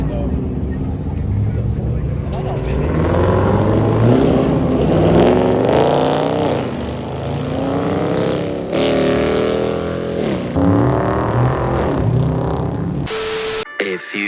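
Street racing cars on a city street at night, engines revving and roaring loudly throughout with rising and falling pitch as they accelerate, while music and voices play over the top.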